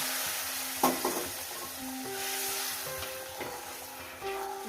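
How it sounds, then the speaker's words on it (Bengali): Hot water poured into a frying spinach curry in a pan, a brief burst of sizzle and bubbling followed by a softer simmering hiss with a few stirring knocks, close, without voices. "এরপর কি করব এই ফুটন্ত গরম জলটা আমি দিয়ে দিলাম"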